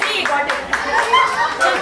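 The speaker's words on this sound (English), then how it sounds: "give her a big round of applause" Clapping from a small gathering at a birthday celebration, a few scattered, uneven claps mixed with voices and chatter close by.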